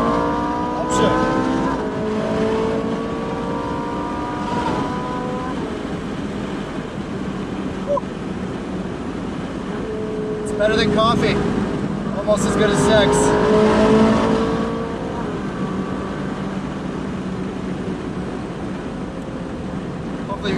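A 2015 Ferrari 458 on a test drive, engine revving hard with rising upshift sweeps and loud, sustained roar heard from inside the cabin, while occupants talk over it.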